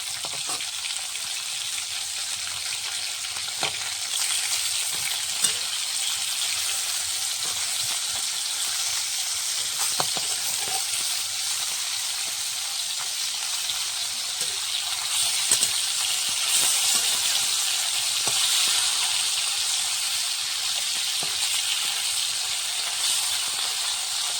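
Fish fries in hot mustard oil in a wok, giving a constant close hiss and sizzle with scattered sharp pops and spits throughout, and nobody speaks.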